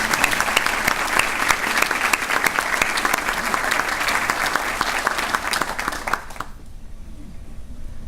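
Sustained applause from an audience at a children's museum event fills the room, steady and dense, then cuts off abruptly near the end and leaves a quiet room.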